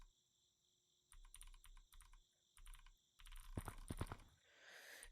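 Fingers type on a computer keyboard in quick bursts of crisp clicking keystrokes, pausing briefly between runs, heard up close in a quiet room.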